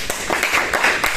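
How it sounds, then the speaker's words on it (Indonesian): A small round of hand clapping from students in a classroom during a geography lesson, a few scattered claps at an uneven rhythm, close and fairly light. "Boleh tepuk tangan untuk Bang Pipa?"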